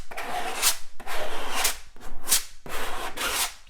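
A scraping tool dragged across a thin, very hard skim coat of plaster, four rough rasping strokes in steady rhythm, close and fairly loud, with no talk.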